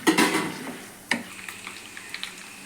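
Chana dal, peanuts, mustard seeds, dried red chillies and green chillies stirred in a hot oiled pan for upma pulihora: a few sharp spoon-on-pan clinks and scrapes over a faint, steady sizzle, close by and with no talk.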